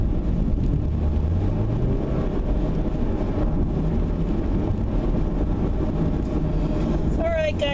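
Road traffic rumbles steadily from inside a moving car, a dense low wash of tyre and engine noise with faint passing vehicles.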